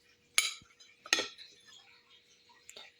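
A knife cuts through a peeled boiled egg on a plate, giving a few sharp, close clinks of metal against the plate separated by quiet pauses.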